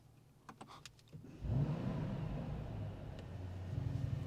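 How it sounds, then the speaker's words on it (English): Both power windows lowering on a 2025 Mercedes S63 AMG, a low steady electric motor whir rising after a few faint clicks and continuing evenly, heard from inside the car without voices. "putting both windows down"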